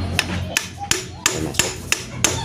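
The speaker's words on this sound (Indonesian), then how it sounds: "kita ketok aja pakai palu nggak apa-apa" A hammer taps a part into place while a Shimizu water pump is reassembled, seven sharp metallic knocks at a steady, unhurried pace, close and clear with no talk.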